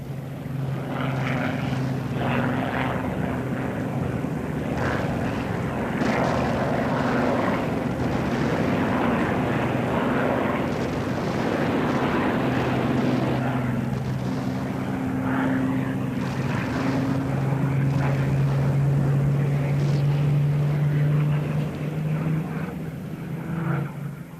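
Propeller-driven German Luftwaffe aircraft drone steadily overhead above a bombed city, a loud, continuous engine roar with shifting tones sustained throughout with no voices.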